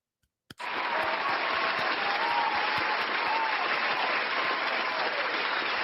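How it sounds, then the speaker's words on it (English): A studio audience bursts into steady, sustained applause after a brief moment of quiet, the clapping holding at an even loudness to the end. "Round of applause."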